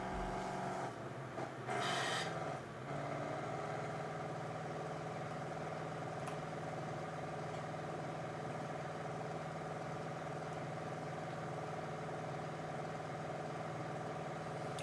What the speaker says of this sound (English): Hear the engine struggling a bit more now.